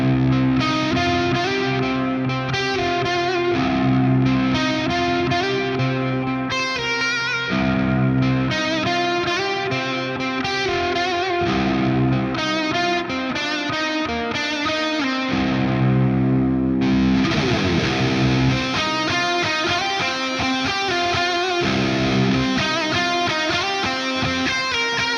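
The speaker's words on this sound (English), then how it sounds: "I've just got the plate lush, reverb, and the analog delay in stereo, with a little bit of ping pong as well, so we get some more stereo width." Electric guitar played through a Quad Cortex with lush plate reverb, stereo analog delay with ping-pong repeats, and a drive effect: dense, sustained chords and riffs wash together continuously at steady volume, with repeats and reverb tails filling the space.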